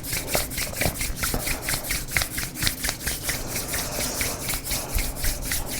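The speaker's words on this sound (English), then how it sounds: "So just keep rubbing your palms together." Palms rub briskly together close to the microphone, a rhythmic, repeated dry swishing at a steady moderate pace.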